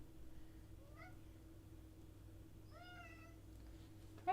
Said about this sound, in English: Kratos is meowing in the bag